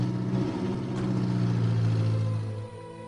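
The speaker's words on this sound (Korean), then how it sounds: "밖에서 차 소리가 났다" A car engine hums steadily outside with a low droning rumble that holds for a few seconds and then fades as the vehicle arrives.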